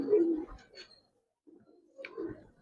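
A pair of silver Giribaz pigeons gives soft, low cooing in two short bursts split by a brief silent gap, close and moderately loud with no talking.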